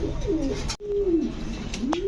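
Pigeons coo nearby on a pigeon farm in low, throaty, rolling calls, two drawn-out phrases with a brief break between them.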